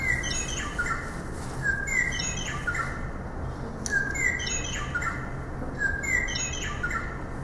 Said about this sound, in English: no, it's not a sparrow. It's a meadowlark.